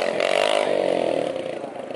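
At night, an engine revs hard in a buzzing, rising whine that holds for a couple of seconds before easing off slightly.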